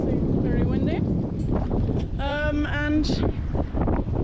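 Strong wind roars steadily across the microphone on an exposed Spanish shore with waves crashing on the beach, a low buffeting rumble with a voice briefly heard through it.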